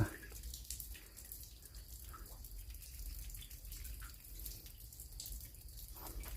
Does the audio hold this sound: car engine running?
no